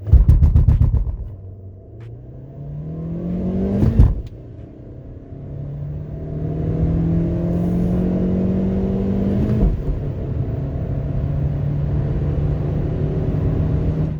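A 2024 MG ZS with the 1.5 VTi-Tech engine revs briefly, then pulls away in steady acceleration, its engine note climbing through rising gear tones with a short break at a shift, loud and continuous with no talk.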